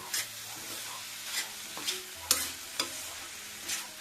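A spoon stirs and scrapes jaggery in beetroot halwa in a pan in quiet, evenly spaced strokes, about eight in all, with a faint sizzle between them and no voices.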